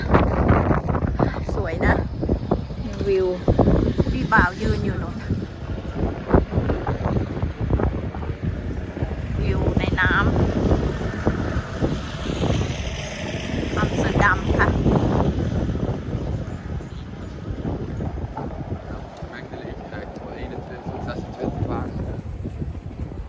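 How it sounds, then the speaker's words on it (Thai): Strong wind gusts buffet the microphone outdoors on a walk through Amsterdam, a steady rough roar throughout with someone talking over it at times. "ลมมันแรงค่ะ"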